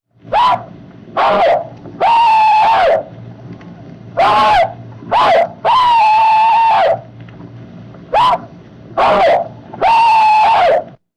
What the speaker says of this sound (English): In 1935, one of such veterans gave a battle cry for a radio station.